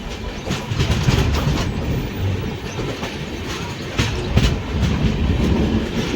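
Telangana Express passenger train running on rails during a monsoon journey, a loud continuous rumble with rhythmic clickety-clack of wheels over rail joints, heard from on board.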